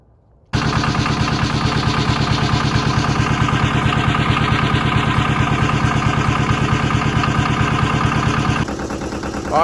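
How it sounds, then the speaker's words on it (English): A Yanmar 1700 tractor's diesel engine idling as it warms up, a loud, close, rapid even chugging that starts abruptly and runs steadily for about eight seconds, then softens slightly near the end. "I'm gonna let the tractor warm up for a few minutes"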